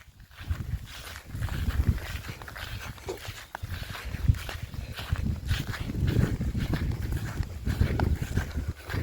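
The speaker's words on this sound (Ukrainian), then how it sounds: "Неслухняний собака." A dog moves around outdoors with steady panting and scuffling, its feet patting and brushing the ground in an irregular rhythm, close and moderately loud, continuing without pause.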